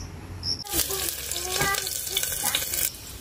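Vegetables hitting hot oil for a tempering burst into a loud, close sizzle that keeps crackling and hissing steadily for a few seconds as they are stirred.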